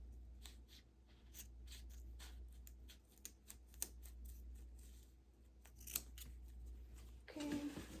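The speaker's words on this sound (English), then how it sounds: "Okay, so I'm gonna cut my zipper now." Scissors snipping repeatedly through a zipper for a makeup bag, a quick run of small crisp cuts close by over a low steady hum, ending in a brief rustle.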